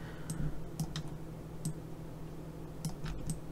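Sharp, dry keyboard key clicks sound at irregular intervals, a handful of separate presses over a low steady hum while working in Maya 2018, with no talk.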